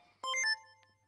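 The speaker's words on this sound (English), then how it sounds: "My phone went off. Apparently I got a text." A phone text message alert in the video game Digimon Survive: a short bright chime of three quick tonal notes, clear and close over a faint low hum, then a soft fading tail.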